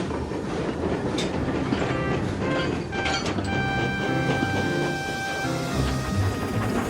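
A video game train in Trainz (TRS19) pulls away, rumbling and clattering steadily along the rails, with squealing metallic tones rising partway through, fairly close and continuous.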